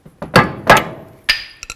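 A screwdriver and hammer knock the hub cover off a 2006-10 Dodge Charger wheel hub: three sharp metallic strikes spaced about a third of a second apart, followed by a couple of quicker light taps, close and loud.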